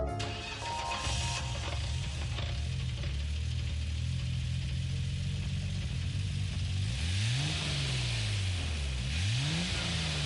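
In-game car engine from Gran Turismo 7 with loose, ticky tappets, idling then revving up and down in repeated swells toward the end, a steady mechanical whir underneath throughout.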